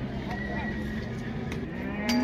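Cattle lowing at a livestock bazaar in Taraz, with steady crowd and market noise throughout and a louder bovine call rising near the end.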